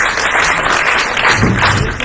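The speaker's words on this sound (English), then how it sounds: "It's getting applauded." An audience at a parliamentary candidates' climate hustings in Tatton bursts into loud, continuous applause that fills the room throughout, with a voice faintly heard under the clapping.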